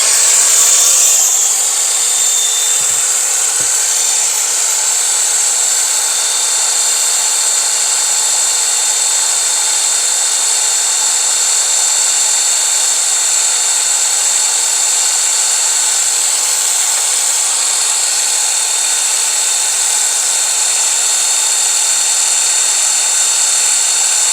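A Makita DGA511Z cordless angle grinder runs without load at maximum speed, a steady, loud high-pitched whine that holds unbroken for the whole stretch after a brief spin-up.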